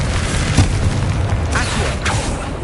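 Confringo fire spell blast in Hogwarts Legacy on PS5, a loud, dense burst of booming game explosions with sustained rumbling and crackle that lasts the whole moment, with no talk over it.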